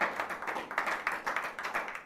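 A small crowd at a computing conference claps for a person being thanked, a steady patter of many hands that is fairly close and even, with no voices over it.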